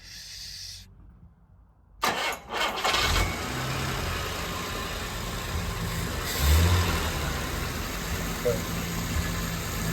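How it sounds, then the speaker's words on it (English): A Jaguar E-Type cranks and fires up after a brief pause, then settles into a steady, close, rumbling idle that swells slightly midway, with no talking. "let's just turn the car on quickly"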